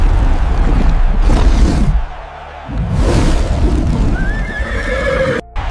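A horse neighs loudly and repeatedly, long shrill whinnies broken by short pauses, with a final high neigh toward the end, close and clear with no talk over it.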